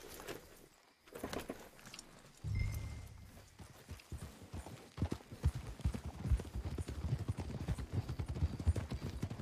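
Horse hooves clip-clop in Red Dead Redemption 2, starting sparse then settling into a quick, steady walking rhythm of sharp close hoof strikes.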